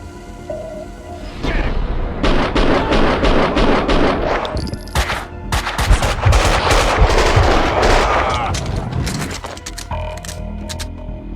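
Gunfire in the video game Max Payne 2: loud, dense bursts of rapid automatic shots and booms rattle almost continuously for about eight seconds, then fade out.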